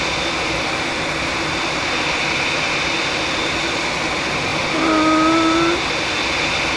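A Boeing 787-9 taxiing into parking in the Prepar3D flight simulator gives a steady, loud jet engine whine and broadband rumble, with a brief tonal chime near the end and no talk.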